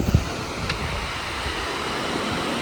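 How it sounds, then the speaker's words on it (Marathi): Arabian Sea surf rolling in during monsoon rain near the Harnai fishing harbour, a steady broad wash of waves with wind buffeting the microphone and a couple of soft thumps at the start. "तिकडे पूर्ण अरबी समुद्राच्या लाटा बघा"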